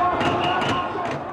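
A large street crowd in Paris marches against President Sarkozy's policies during the 2008 recession, a dense, steady roar of many voices with faint scattered shouts.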